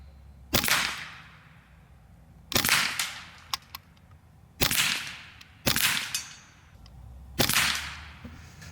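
Karma SLS .22 PCP air rifle firing in semi-auto, five sharp, loud cracks spaced one to two seconds apart, each with a short fading tail and faint clicks of the action between shots.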